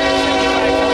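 Loud, close train horn blaring steadily as a train passes near the Tehachapi Depot, filling the whole moment with a sustained chord-like tone over rail rumble.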